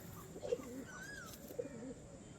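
A male Punjabi pigeon coos twice in low, throaty phrases close by, with a faint higher whistle-like call between them over a quiet background.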